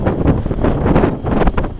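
Heavy wind on the Coney Island waterfront batters the microphone in a loud, continuous rumbling rush that surges and dips slightly, with no speech.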